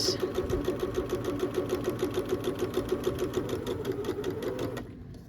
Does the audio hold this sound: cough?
no